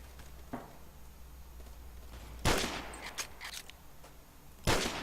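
Sniper rifle fire in the Roblox shooter Phantom Forces: two sharp, loud single shots about two seconds apart over a low steady background hum, with some faint clatter between them.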